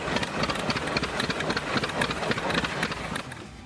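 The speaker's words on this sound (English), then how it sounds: "The Waterloo Boy Model N was equipped with a two-cylinder gasoline-kerosene engine" A Waterloo Boy Model N tractor's two-cylinder, 465-cubic-inch gasoline-kerosene engine runs steadily and fairly loud, with a continuous rumble and a quick, even pulsing throughout.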